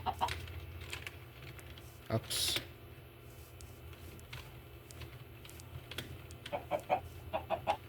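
Chickens cluck in the Minecraft Tekkit Lite game, several short soft clucks coming and going at moderate distance, with a brief exclamation from a person in the middle.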